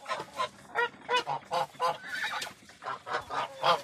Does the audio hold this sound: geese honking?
yes